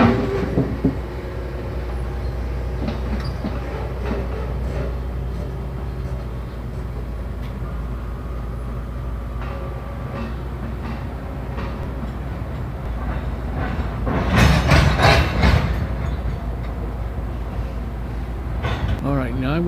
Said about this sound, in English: And here's the rest of the train.